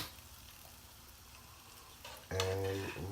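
A spoon stirs Tom Yum soup in a pot with soft, low scraping and swirling, followed by a louder ringing clink near the end.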